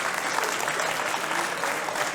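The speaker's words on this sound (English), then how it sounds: "A round of applause from fans here in Sunderland who are impressed with what they see from Sexsmith." Wrestling fans in Sunderland applauding a wrestler's move, a dense, steady burst of clapping filling the hall for a couple of seconds.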